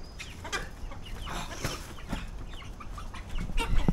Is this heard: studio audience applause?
no